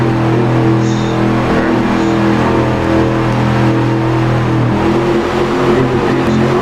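Race cars at Dover accelerate in a loud, continuous, close engine drone that stays steady without a break.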